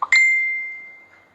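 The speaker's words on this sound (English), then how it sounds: "I just need to put this ringtones off so you guys don't hear what's going on" A phone ringtone sounds alone indoors, a short chirp followed by a single bright sustained ding that rings out and slowly fades over about a second.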